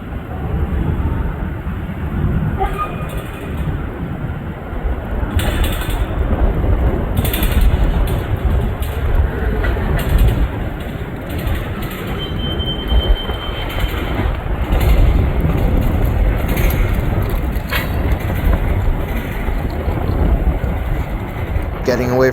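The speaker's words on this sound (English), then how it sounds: "A little later, the train started moving," A freight train with coil cars and boxcars moves through Enola Yard, a continuous low rumble and clatter of wagons rolling past, loud and steady, with a voice speaking over it.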